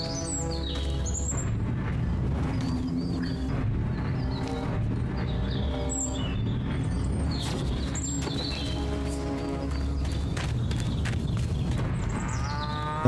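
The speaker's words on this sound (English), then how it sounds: "Use PK to finish off the belligerent bovines." Cattle moo repeatedly in the video game Destroy All Humans!, several drawn-out low calls overlapping over a steady bed of game ambience with bird chirps.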